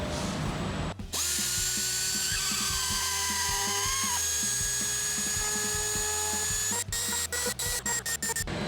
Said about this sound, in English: So we hit all those little indentations with the die grinder.